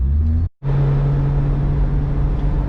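BMW E12 car on the road, its engine holding a steady drone with a constant low tone throughout after a brief dropout, a close continuous rumble with no speech.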